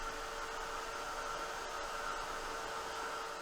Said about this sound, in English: I'm just gonna dry this with my heat tool